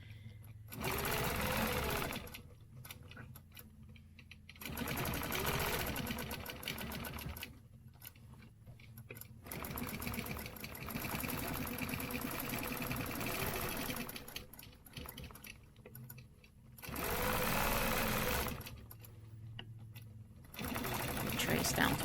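A sewing machine stitches a figure-eight stencil design in bursts of rapid, even whirring, stopping and starting several times, with a person talking quietly during the pauses.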